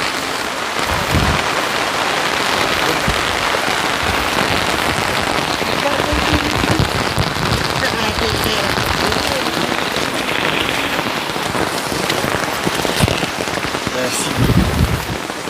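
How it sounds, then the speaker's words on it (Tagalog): Heavy tropical forest rain pours steadily, a dense hiss of drops on surfaces with occasional louder splatters close by, continuous throughout. "Lagi na lang umuulan, parang walang katapusan"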